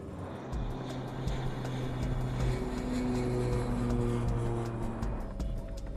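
Steady low drone of a turboprop airliner's engines on final approach to Detroit, heard continuously from the cabin with a constant engine hum and faint higher whine throughout.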